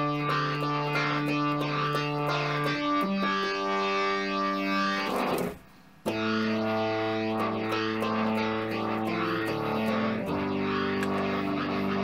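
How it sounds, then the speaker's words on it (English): A heavily distorted, aggressive tone plays sustained chords, recorded with a Tascam 38 reel-to-reel tape recorder, cutting out briefly midway before resuming just as loud and gritty. "if I increase the distortion of it, can actually become really aggressive"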